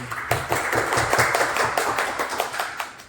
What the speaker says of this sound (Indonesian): beri tepuk tangan untuk Mbak Triana Ayu